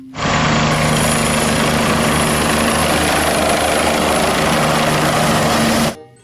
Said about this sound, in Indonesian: Helikopter teman-teman.